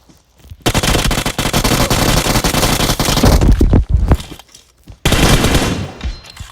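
Loud, close automatic gunfire rattles in long sustained bursts, briefly stops, then returns in another rapid burst, with sharp single shots in the gaps.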